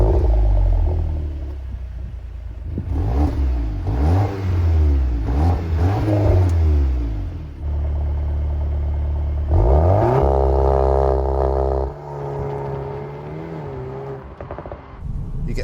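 A 2024 Volkswagen T-Roc R fitted with an Akrapovic exhaust revs repeatedly, its engine note rising and falling in loud, close sweeps, then settling into a steadier drone with no talking.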